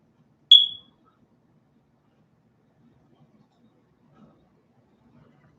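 A single short, high-pitched electronic chirp from a household smoke alarm with a low battery, sounding once near the start and followed by near silence.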